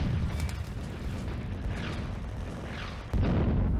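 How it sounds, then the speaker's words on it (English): Soviet artillery fire in the Firefight video game, a continuous low rumble of distant bombardment with a heavy boom swelling in near the end over a dense, noisy battlefield bed. "Here comes the Soviet artillery."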